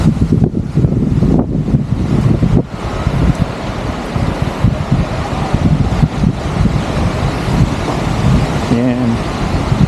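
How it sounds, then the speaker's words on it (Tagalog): Strong gusting wind outdoors near a bridge in Canmore, Canada, roaring and buffeting the microphone loudly in bursts, with traffic passing by and a voice speaking briefly. "Grabing hangin."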